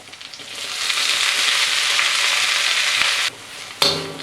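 Greens sauté in a hot pan for Indonesian-style nasi goreng kampung, a loud continuous sizzle with stirring scrapes that drops off suddenly near the end before a brief clatter and a renewed hiss.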